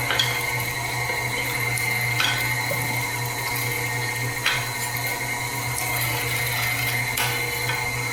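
A meat grinder runs steadily as meat for burgers is pushed through it, a continuous mechanical whir with a low motor hum and a faint recurring clack every couple of seconds, close by with no talking.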